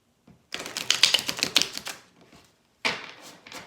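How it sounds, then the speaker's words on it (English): Tarot cards shuffled by hand at close range: a dense, rapid riffling flutter of about a second and a half, a pause, then a shorter second burst. No one speaks. "Certain cards I don't like bending to shuffle. I like shuffling them another way."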